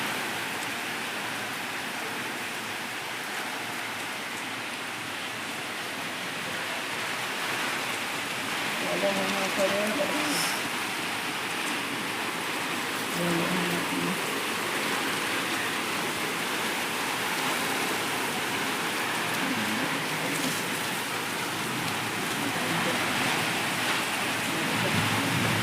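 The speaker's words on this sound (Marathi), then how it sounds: "मुसळधार" Heavy torrential rain pours down in Amravati as a steady, dense hiss of water, with faint voices talking quietly underneath.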